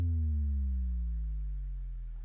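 A trap bass synth in Logic with a long envelope decay, one deep sustained note sliding steadily downward in pitch over about two seconds, heavy in the low end and fairly quiet, with no voices.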